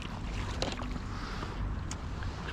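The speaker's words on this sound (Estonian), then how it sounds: "Paat seal veel liigub, püüab seal kohal." On a fishing trip near Pärnu, a small boat moves across open water, with a continuous low rumble, water noise and gusts of wind buffeting the microphone.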